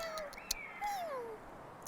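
A pet cat gives two drawn-out meows, the second longer and sliding downward, faint and close in a quiet room, with a small click between them.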